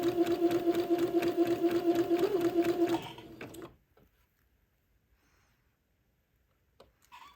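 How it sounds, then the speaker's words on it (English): A sewing machine zigzag-stitches lace onto the hem of a small doll garment, running steadily and fairly close for about three seconds before stopping, followed by near silence. "this is going to take me a while to get this lace all zigzagged onto the bottom"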